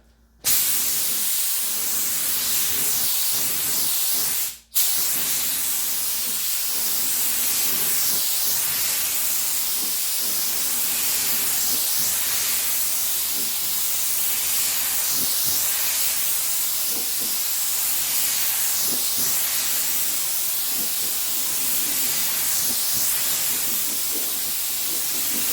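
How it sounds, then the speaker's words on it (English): Clear coat spraying from an aerosol can in a steady, continuous hiss lasting the whole stretch, broken only by one brief pause near the start, with no talking. "Finally, some clear coat."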